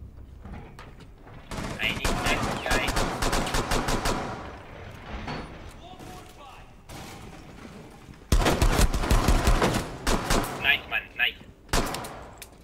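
Bursts of gunfire in the tactical shooter Rainbow Six Siege, loud and close, with rapid automatic volleys from about 1.5 to 5 seconds and again from 8 to 12 seconds, broken by short pauses and mechanical clicks.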